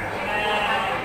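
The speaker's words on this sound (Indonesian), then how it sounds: "kambing-kambing juga banyak sekali di sini." Goats and sheep bleat amid the bustle of a crowded sheep market at Istana Hobi Tagog in Padalarang, West Bandung, their cries blending with steady nearby chatter.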